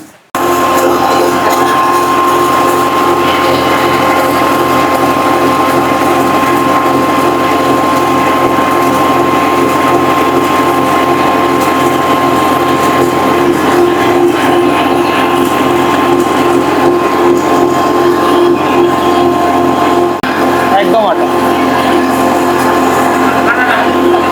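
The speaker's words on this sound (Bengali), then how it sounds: "মেশিনে পিসে দেখাবো দিচ্ছি" A mini rice mill machine grinds hard maize kernels into flour, a loud, steady mechanical drone with a constant whine running unbroken and close throughout, with faint voices beneath it.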